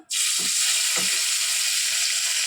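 Nigella seeds hit hot oil in a pan after frying fish, giving a loud, steady broadband sizzle that holds for about two seconds with a couple of soft knocks near the start.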